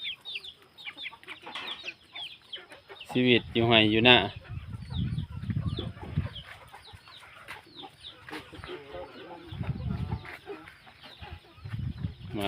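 Chickens cluck and squawk close by, with a loud burst of clucking early on, while a person talks intermittently over the birds.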